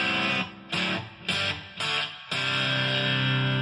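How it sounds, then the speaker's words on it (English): Electric guitar played through a boost pedal set for light distortion and extra treble, several bright chords struck and cut short, then one chord left ringing out, close and clear with no talking. "Very light distortion and more treble."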